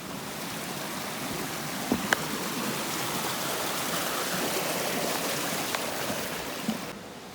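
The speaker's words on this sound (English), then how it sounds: "The amount of creeks on this trail is incredible." A creek along the Manistee River Trail flows in a steady, broadband rush of water, constant and moderately close, with a few faint knocks and footsteps over it and no talking.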